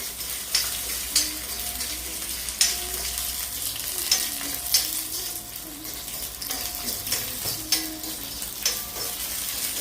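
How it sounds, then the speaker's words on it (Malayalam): Food frying in ghee in a pan, with a constant sizzle under repeated rhythmic scraping and stirring strokes against the pan, close and steady with no talking. "അപ്പൊ ഉള്ള നെയ്യില് നമുക്ക് മൂപ്പിച്ചിടാം."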